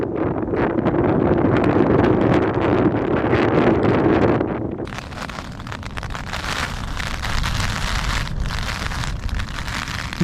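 Wind buffeting a tent while camping in the Lake District in rough weather, a loud continuous rushing roar with gusts and flapping fabric, heard close and without anyone talking.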